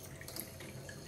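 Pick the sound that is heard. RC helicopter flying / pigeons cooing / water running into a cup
water running into a cup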